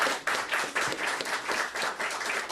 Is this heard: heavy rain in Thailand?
no